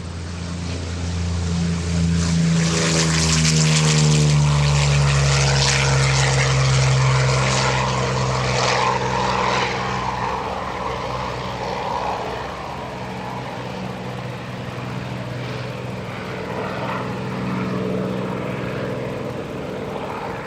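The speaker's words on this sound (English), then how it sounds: "From the right, Thom Richard, the P-40 Warhawk." A Curtiss P-40 Warhawk propeller fighter passes at an airshow, its loud engine drone rising and then falling in pitch as it goes by, fading into a broad distant roar.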